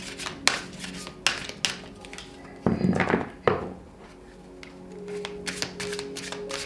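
Tarot cards shuffled and drawn by hand in a quiet room, with several sharp taps and slaps of the deck and a longer rustling shuffle in the middle, close and moderately loud, no talking.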